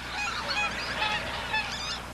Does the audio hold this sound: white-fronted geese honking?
yes